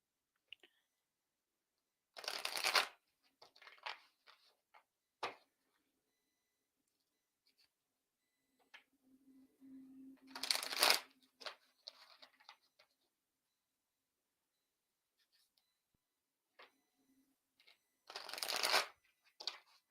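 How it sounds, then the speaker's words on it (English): Tarot cards shuffled three separate times in a quiet room, each a short, soft riffling burst, with light handling clicks and card taps between the shuffles. "We're going to shuffle 3 times. We're just going to hold space that our cards will bring us clarity"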